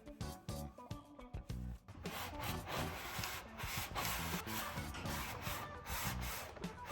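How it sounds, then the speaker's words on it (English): A cotton rag wipes excess release wax off a composite layup part, giving close, quiet rubbing strokes that start as short separate swipes and then run together into continuous scrubbing. "This part is just me removing some of the excess wax and making sure that there's not too much on the part."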